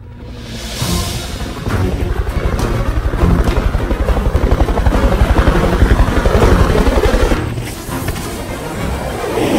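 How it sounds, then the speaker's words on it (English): Helicopter rotors thump rapidly and loudly as the aircraft passes close by, building to a sustained chopping roar before easing slightly. "With enemy choppers moving in to pick up the downed pilot"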